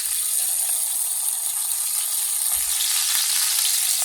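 Paella with snails and chicken frying in a pan, a steady close hiss and sizzle of oil throughout, with a couple of faint low bumps from the pan being stirred.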